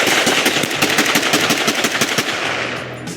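Gunshots from a Glock pistol at a shooting range: a long, rapid, steady string of loud, close reports with no pause, easing slightly near the end.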